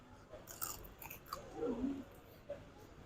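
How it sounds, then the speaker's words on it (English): Close, quiet chewing and crunching on roast pork joint with crispy pig skin, a few crisp bites followed by soft mashing, with no talk. "I love chewing on the pig skin."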